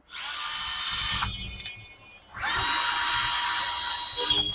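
A Bosch 12 volt cordless drill whirs loudly in two sustained runs separated by a short pause, close up and high-pitched.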